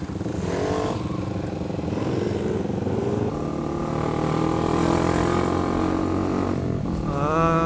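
Honda CBR 150R sport motorcycle with a replaced exhaust being ridden, its engine revving and rising through the gears with shifting pitch, steady and fairly close throughout.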